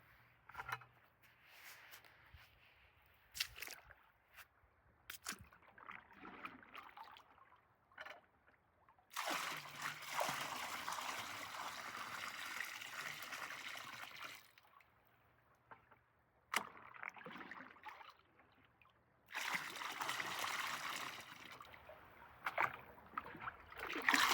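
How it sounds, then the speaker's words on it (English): Water splashes and trickles in bursts as a bucket is rinsed and filled outdoors in the woods, with quiet gaps between the louder sloshing stretches. "I'm just gonna rinse out this bucket and fill it with a little bit of water"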